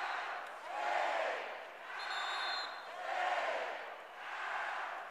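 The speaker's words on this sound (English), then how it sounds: "this crowd is loud here inside of the Holmes Convocation Center" A loud basketball crowd at the Holmes Convocation Center during an East Tennessee State at Appalachian State game roars in swelling waves, rising and falling steadily with no clear break.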